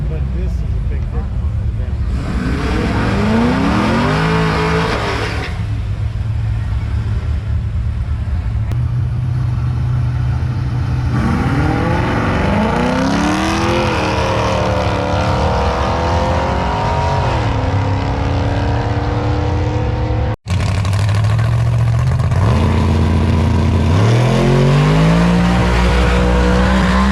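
A COPO Camaro and a Ford GT500 race with loud engines revving up through rising, shifting gear sweeps in several passes, punctuated by tire squeal, while voices talk underneath.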